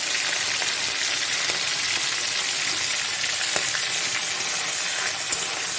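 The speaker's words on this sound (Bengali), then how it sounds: "চিংড়ি মাছ কাঁচা লঙ্কাটা একটু ভালো করে ভেজে নিই" Prawns and green chillies fry in a hot pan, giving a steady, dense sizzle with faint crackles throughout and no voices.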